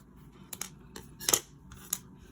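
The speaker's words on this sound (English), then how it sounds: "And then we'll just trim it off." Scissors snip off the yarn ends on a small crocheted snowman hat ornament, giving four or five crisp, separate cuts close up in a quiet room.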